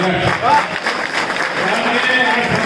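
A crowd at a Gujarati community gathering claps in a dense, continuous burst of applause, with voices mixed into the noise.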